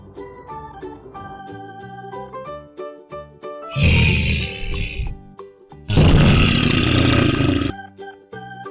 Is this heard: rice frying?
no